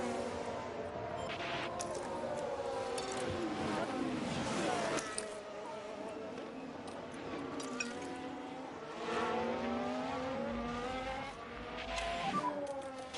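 F1 race cars in the F1 Manager 23 video game on track: continuous high-pitched engine whine rising and falling as cars pass and shift, with layered engine tones and occasional tire noise, sustained and fairly loud throughout.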